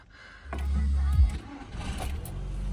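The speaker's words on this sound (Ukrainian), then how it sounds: "Двигунчик запускається з півтику." A 2008 Volkswagen Golf V 1.4 TSI engine with DSG automatic cranks briefly and catches, then settles into a low idle rumble up close, with a voice speaking over it.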